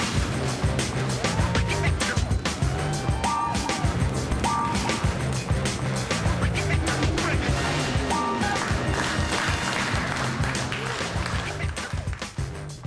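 Several cars, including a rally car built for a garage league race, drive in with loud, continuous engine roar and a few brief tire squeals, while voices talk over the noise.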